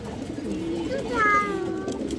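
Pigeons cooing in a loft of pet pigeons kept for sale, a few soft low coos close by, heard under a voice talking.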